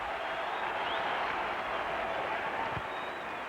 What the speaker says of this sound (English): Tremendous roar as Mo Vaughn is introduced.